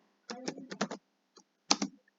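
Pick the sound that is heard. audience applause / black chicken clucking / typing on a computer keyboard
typing on a computer keyboard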